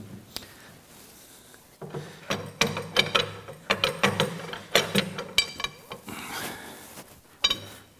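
The oiled compound slide of a LeBlond lathe being worked into place, producing a run of close metallic clicks, clunks and scraping knocks in an irregular rhythm.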